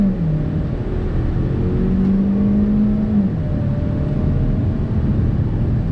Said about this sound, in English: Rolling out here on throttle.